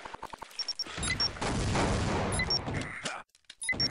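A grenade blasts in Team Fortress Classic, the video game, a dense roaring burst lasting over a second, framed by sharp clicks, short tones and scattered gunfire.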